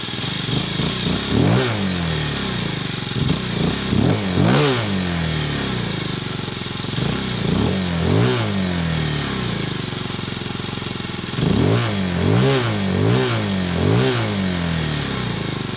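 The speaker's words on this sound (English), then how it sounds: "now it's time to hear how this motorcycle sounds" A 2026 Beta ALP X motorcycle engine blips and revs repeatedly in loud close bursts, rising and falling over a steady idle, with clusters of throttle stabs near the start, middle and end.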